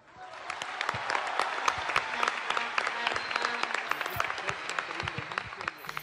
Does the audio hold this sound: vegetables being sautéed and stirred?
no